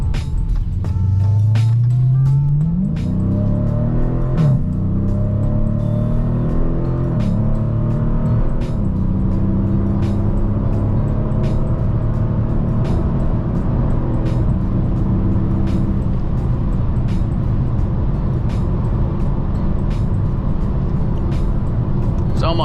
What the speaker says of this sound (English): I'm gonna get some footage of me doing another pull back onto the interstate here.